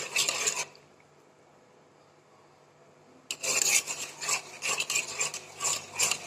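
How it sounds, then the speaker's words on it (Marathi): Milk with mango custard simmering in a pot, scraped and stirred from the bottom with a spoon: close rasping strokes in bursts, a quiet pause, then repeated rhythmic scraping. "हे वाजायला ना तर बुडातून हलवावं लागते"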